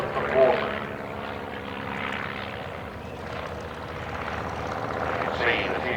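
A propeller-driven B2 aircraft flying an aerobatic display at the Shuttleworth evening air display: a distant, fluctuating engine drone that rises and falls as it manoeuvres, with a commentator talking over it.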